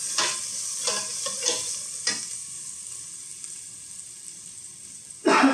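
Onion and garlic sauté in a pan with a soft continuous sizzle, a few clustered scrapes of a stirring utensil early on, then a quieter stretch before a brief louder clatter at the end.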